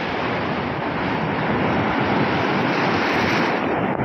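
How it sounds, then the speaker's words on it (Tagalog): Big ocean waves during a rough boat crossing at sea, a constant loud roaring wash of surf mixed with heavy wind buffeting, no clear voices. "Grabe, malaki pa rin yung alon"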